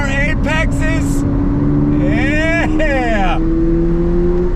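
A 2022 Toyota GR 86 sports car on a race track, a steady loud engine drone heard from inside the cabin with pitch sweeping as it changes speed, under a driver talking.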